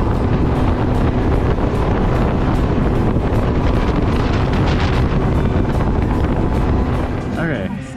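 A tour boat engine in Belize drones steadily with heavy wind buffeting the microphone, the rumble continuous and loud throughout.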